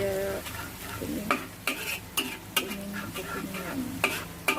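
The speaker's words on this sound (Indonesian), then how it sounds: "kita goreng sampai dia kuning" Garlic frying in a pan until golden while being stirred, a steady sizzle with repeated sharp scraping strokes of a utensil against the pan, close and fairly loud, no talking.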